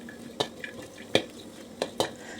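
Galangal, lemongrass, shallots and garlic dry-roasting in a pan for tom yum, heard as a few soft, separate clinks and scrapes of a utensil stirring against the pan over a quiet background.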